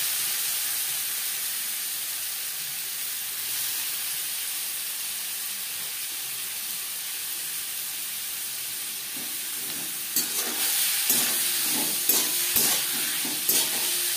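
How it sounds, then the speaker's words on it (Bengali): Prawns fry in a pan over a medium flame with salt, giving a steady soft sizzle and hiss throughout, then a few sharper spits and crackles near the end as they are stirred. "মিডিয়াম ফ্লেমে চিংড়ি মাছ হালকা করে ভেজে নেব।"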